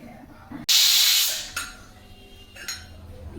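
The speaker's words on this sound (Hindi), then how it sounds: "सीटी लग गई" A pressure cooker cooking khichdi lets out a sudden loud, hissing steam whistle that lasts nearly a second, followed by fainter hisses and kitchen clinks.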